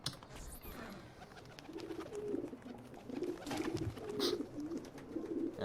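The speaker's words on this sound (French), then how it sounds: "Ah les pigeons." Pigeons coo repeatedly at close range in Assassin's Creed II, a string of soft, rolling throaty calls that grows steadier in the second half over a faint ambient game background, with no talk over them.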